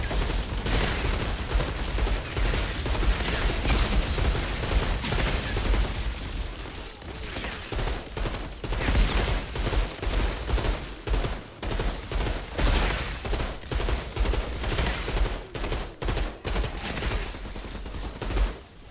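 Rifle gunfire in the Outriders shooter game, with rapid, dense bursts of shots and booms running almost without pause for the whole stretch, loud and busy with no talk over it.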